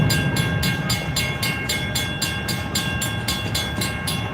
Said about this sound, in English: Escanaba Lake Superior Railroad is switching cars. This is a super long train right now.